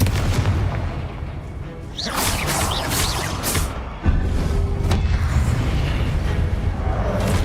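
A Confringo blasting spell goes off in a video game, a loud booming blast over a dense, rumbling combat background, with a sharp impact about midway followed by sustained roar.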